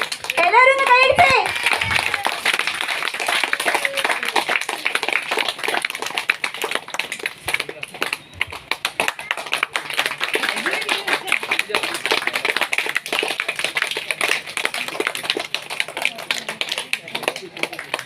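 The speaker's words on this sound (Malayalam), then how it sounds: "എല്ലാവരും കൈയടിച്ചേ" An audience at a St Joseph's ward anniversary celebration clapping along to a song, steady rhythmic hand claps from a crowd, loud and continuous, with a voice speaking briefly at the start.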